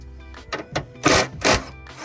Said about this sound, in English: now we're gonna start taking the actual bolts off the fender